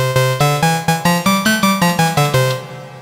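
An ARP Odyssey synthesizer with oscillator sync on plays a rapid rising-then-falling run of about a dozen bright, buzzy, harmonically rich notes, loud and up close, each with a plucky attack.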